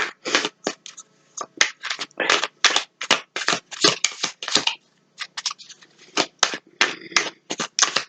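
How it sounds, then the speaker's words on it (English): Quick shuffling of a tarot card deck by hand, a rapid run of sharp riffling and slapping bursts in irregular rhythm, close and fairly quiet, with no talking. "We'll just give it a quick shuffle and we'll see what our extra message is."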